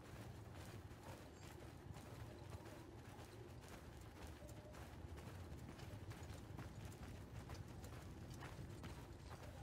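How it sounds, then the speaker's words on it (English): Steady clip-clop of horse hooves in the video game Mount & Blade II: Bannerlord, mixed with soldiers marching and clanking, a dense continuous rumble of movement with no talking. "I hear horses."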